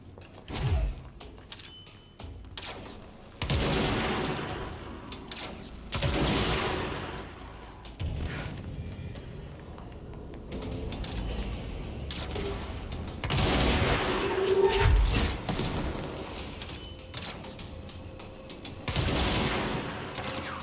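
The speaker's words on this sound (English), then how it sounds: "We heard a gunshot." Gunfire in the video game Control: several bursts of loud shots and impacts separated by short gaps, with sharp sweeping effects between volleys.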